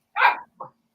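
Two sharp dog barks sound close by, a loud full bark followed by a shorter, softer one, with quiet around them.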